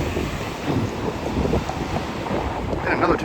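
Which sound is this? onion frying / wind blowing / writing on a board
wind blowing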